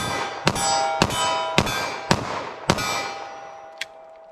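Five sharp .45 ACP pistol shots from Winchester ammunition crack out at a steady, roughly half-second rhythm at a range 14 yards from the target, each ringing out with a metallic clang, followed by a fainter sixth report.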